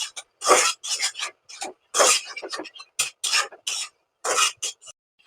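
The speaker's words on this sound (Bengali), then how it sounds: "এখন সবগুলো একসাথে মিলিয়ে নিব, নাড়াচাড়া কিছুক্ষণ করে নিব যাতে সবগুলো একসাথে ভালো করে মিশে যায়" Vegetables and spices being stirred together in a pan for oats vegetable khichdi, a series of short, scraping, rubbing strokes in uneven bursts with brief gaps between them, close and clear.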